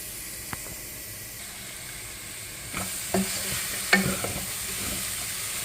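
Lemons stirred into a simmering sweet lemon pickle in a pan, with a low steady sizzle and several distinct spoon scrapes and knocks against the pan in the second half.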